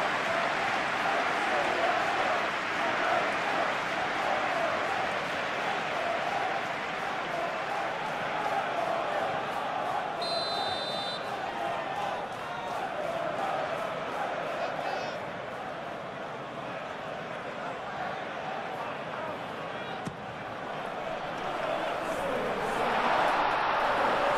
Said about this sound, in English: But it certainly got the crowd going.